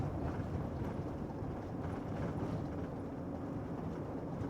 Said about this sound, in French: En tout cas, la mer est démontée là. Il y a beaucoup de vent.